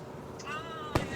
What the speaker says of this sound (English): Look, you can see all the fireworks.